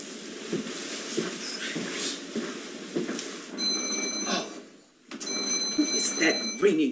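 A doorbell rings late at night in a house, its bright repeated chimes sounding in two bursts separated by a short pause, with people talking and moving nearby in the background.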